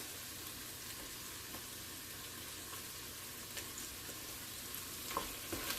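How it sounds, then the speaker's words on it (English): Curry frying in a pot at medium heat with a beef bouillon cube added, a faint, steady sizzle with a few soft stirring knocks, close and without talk. "But you must fry your curry first."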